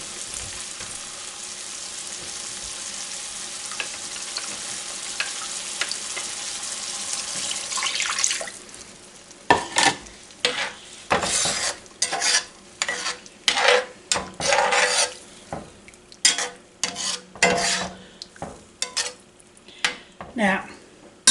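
Beef broth pours into a pan of sizzling Swiss steak drippings: a steady hiss and gurgle at first, then louder bursts of spattering, stirring and clattering of utensils against the pan.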